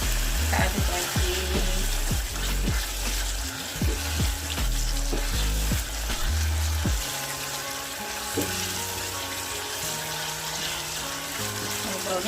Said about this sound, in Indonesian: Kemudian 3 lembar daun jeruk dan serai yang sudah digeprek. Kita aduk lagi.